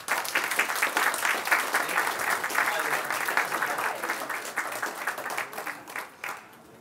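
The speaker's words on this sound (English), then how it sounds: "So please help me by a round of applause for King County Council" Crowd applause at a City of Federal Way Flag Day ceremony for a county council member, sustained clapping that holds steady before thinning out and fading near the end.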